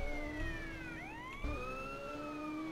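A police siren wails on a vehicle in a Roblox roleplay game, its pitch sweeping up and down steadily over a low engine hum, loud and continuous with no talking.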